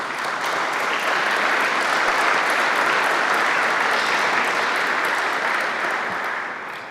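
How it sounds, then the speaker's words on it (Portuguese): Sustained applause from a large audience cheering athletes at a civic event, a dense, steady wash of clapping that holds evenly for several seconds before easing slightly at the end. "Uma grande salva de palmas para todos os atletas"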